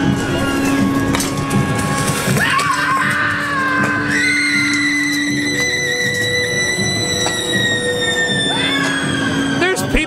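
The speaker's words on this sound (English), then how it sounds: "There's people screaming everywhere!" Crowds scream and shriek at a dark Halloween Horror Nights scare zone, with loud overlapping cries and sustained wails over a constant din of noise and chatter.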